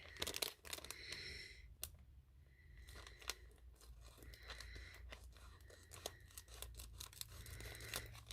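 Scissors snip along the side of a mail-order package from an Action haul, with crisp cuts and crinkling plastic wrap coming in short bursts, close and fairly quiet, with no talking.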